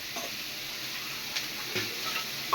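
Ginger-garlic paste frying in a pan, a steady soft sizzle with a few faint stirring clicks and scrapes throughout, close and fairly quiet, no voices.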